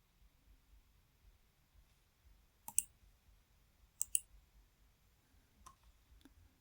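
A computer mouse gives a few sharp, faint clicks, a close double click followed by isolated single clicks, spread out over quiet background hiss.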